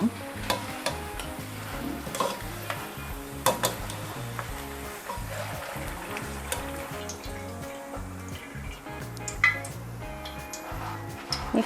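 Garlic frying in oil in a pan on a gas stove, a constant close bubbling sizzle with light spattering crackles and the odd clink of utensils, no talk.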